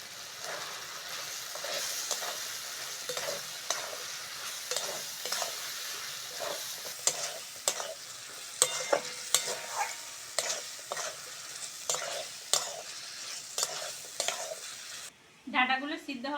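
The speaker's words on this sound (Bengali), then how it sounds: "এবার কেটে ধুয়ে রাখা ডাঁটাগুলো দিয়ে দেবো।" Sajne drumstick stalks sizzle in a fried spice paste while a spoon stirs them, with repeated sharp scraping clicks over a steady close frying hiss. The sizzle cuts off near the end.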